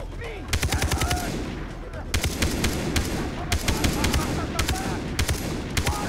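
Bursts of automatic gunfire from the video game Far Cry 3 come in several rapid volleys separated by short pauses, loud and close.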